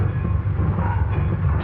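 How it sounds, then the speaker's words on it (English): A train rumbles steadily in a railroad yard, a dense, continuous low rolling noise with faint rail clatter that neither fades nor breaks, heard from an old film soundtrack. "See that train down there?"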